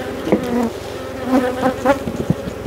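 Honeybees buzz around an open hive during swarm making on the Mediterranean coast, a close, dense hum with individual bees droning past the ear in brief louder swells.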